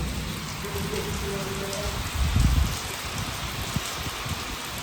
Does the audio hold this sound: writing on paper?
no